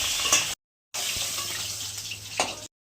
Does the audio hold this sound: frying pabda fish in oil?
yes